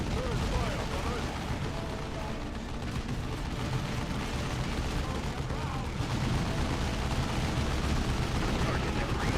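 Dawn of War battle gunfire rattles continuously under a dense, loud wash of combat noise, with voices barking orders over the fighting.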